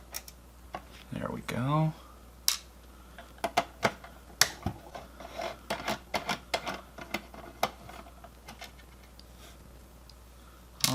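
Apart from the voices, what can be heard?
removing tiny Phillips screws from an Xbox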